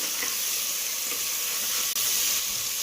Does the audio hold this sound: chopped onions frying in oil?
yes